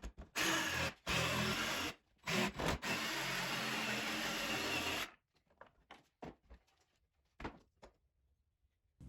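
A jigsaw cuts an oblong hole through a melamine router table fence, a loud steady buzzing run with brief stops, then quiet clicks and light handling once the blade stops.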